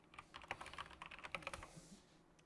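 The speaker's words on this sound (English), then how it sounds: "And then it was here, and then I go typing names down." Rapid typing on a computer keyboard, a steady run of close, crisp key clicks lasting about two seconds before fading out, with no voices.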